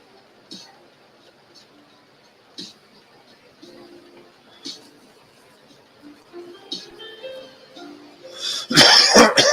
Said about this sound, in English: you hear me cough